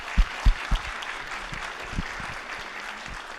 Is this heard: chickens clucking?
no